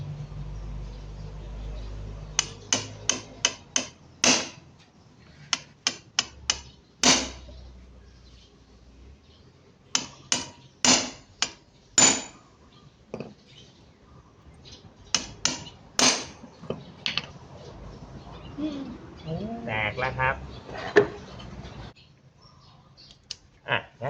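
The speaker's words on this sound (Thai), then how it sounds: "เราก็ใช้เครื่องมือนะครับตอก" Sharp metallic taps in quick irregular bursts, close and loud, as a tool is hammered while disassembling a Honda Dream 100 motorcycle engine, with pauses between runs and some faint background activity.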